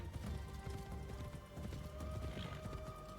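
Horse hooves clip-clop at a gallop in the video game Assassin's Creed Shadows, a quick repeating rhythm of muffled thuds under faint game ambience, fairly quiet and steady.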